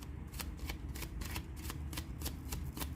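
Tarot cards being shuffled, a quick rapid riffle of crisp flutters repeating in a steady rhythm, close and fairly quiet.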